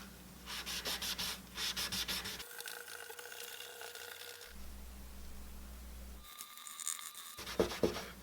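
A cloth rubs naphtha into a Martin acoustic guitar's fingerboard in short back-and-forth strokes, producing close, raspy scrubbing bursts that alternate with steadier swishing passages and brief quieter gaps.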